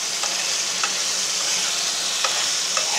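Bitter gourd frying in a pan for a tamarind curry, a steady close sizzle with a few sharp scraping stirs scattered through, no voices.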